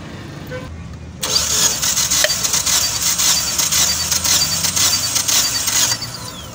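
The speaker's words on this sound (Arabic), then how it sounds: "وتبدأ تدور العربية لمدة 5 ثواني او 4 اشواط" Mitsubishi Lancer engine cranking on the starter during a compression test, a steady rhythmic churning that begins abruptly after a quiet moment, runs for about five seconds close by, then stops.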